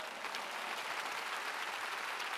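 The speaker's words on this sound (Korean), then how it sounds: "이게 맞다고 생각하는 사람은 박수." A church congregation at a large arena gathering claps in a dense, even burst of applause that carries through the whole moment with no voices above it.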